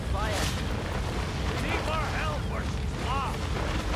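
A burning ship in the video game Divinity Original Sin, with a steady loud roar of fire and rushing noise throughout, overlaid by short rising and falling voice-like calls.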